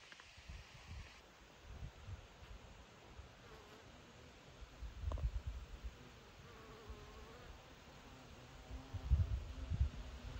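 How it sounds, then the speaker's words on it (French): Honey bees buzz around an abandoned hive in Vendée, a steady insect drone close to the microphone, with soft rustling and light wind bumps swelling now and then, no voices. "Regardez le bruissement des abeilles quand il y en a un qui passe."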